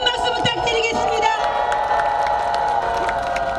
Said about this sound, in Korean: 우리 다시 한번 큰 박수 부탁드리겠습니다.